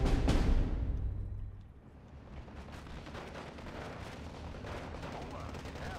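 SK-18 counter-battery artillery guns firing in Steel Division 2 open with a heavy, booming blast that rolls off into a low rumble, followed by a steady crackle of distant battlefield gunfire.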